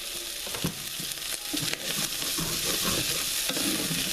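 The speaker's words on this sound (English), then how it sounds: "Got to just keep stirring." Butter being stirred in a hot stainless steel pan for mini sausage quiches: loud continuous frying sizzle with repeated scraping strokes of a utensil across the pan bottom, close and unbroken, with no voices.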